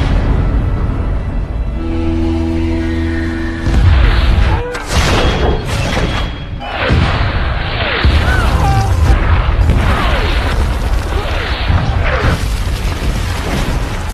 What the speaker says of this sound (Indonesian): Divisi artileri langsung menembakkan meriamnya ke arah musuh dan beberapa mengenai sasaran.